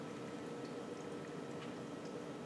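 Homemade almond milk poured into a straining cloth, a steady close liquid trickle and splash running continuously without pause.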